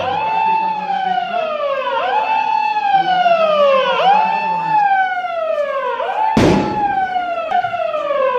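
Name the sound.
sirens during civil defence mock drill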